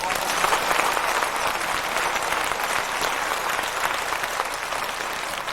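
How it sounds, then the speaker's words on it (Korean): A large congregation at a church revival service claps in thanks for a pastor, a loud, sustained wash of applause filling the hall without pause and with no speech on top. "우리 박수 한번 합시다"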